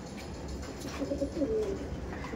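Andhra breed pigeons give a brief, soft run of cooing in the middle, heard over a low steady background.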